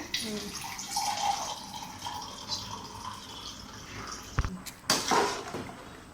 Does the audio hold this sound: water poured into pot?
yes